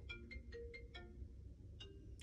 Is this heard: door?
no